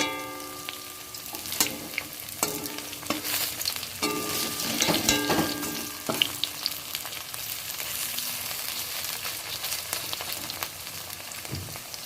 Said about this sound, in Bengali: আমি সব পকোড়াগুলো দিয়ে দিয়েছি কড়ার মধ্যে এবার ধিমি আছে লাল করে ভেজে নিতে হবে